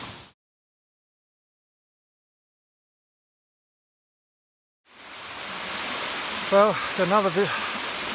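A waterfall in the bush on a solo overnight hike from Lost World to Rat A Tat Hut roars as a steady broadband rush after a long silence, with someone briefly speaking over it.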